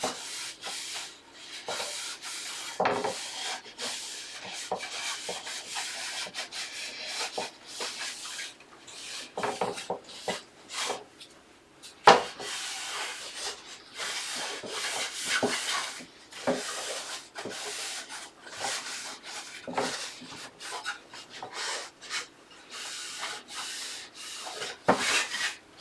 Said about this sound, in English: So now it's just a piece of cloth, and I'm just going to wipe the excess off.